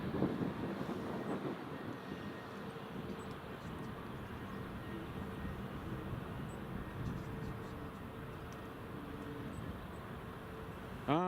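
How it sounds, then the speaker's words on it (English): Distant EasyJet airliner taxiing at Edinburgh Airport, a steady low broadband rumble with wind buffeting the microphone, held evenly throughout with no talk. "There's EasyJet taxiing."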